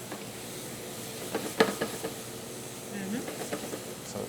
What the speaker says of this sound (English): See the steam, so it's cooking with its own jus.